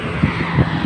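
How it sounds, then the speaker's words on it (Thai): A walk-behind farm tractor with a Yanmar engine chugs loudly and steadily up close, a continuous low rumble with no talking. "รถไถนาเดินตาม"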